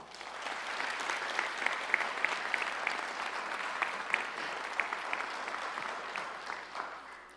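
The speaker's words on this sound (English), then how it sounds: "Please give them a round of applause." Audience applause at a high school graduation ceremony for the Spokane Valley Tech class of 2025, steady and sustained for several seconds with scattered sharper claps, moderately distant in a large hall.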